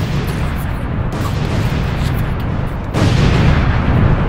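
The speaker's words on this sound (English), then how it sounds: "The explosions" Explosions in the video game Edward's Sewer Adventure, a dense continuous roar of booming blasts that swells louder partway through, with no talk over it.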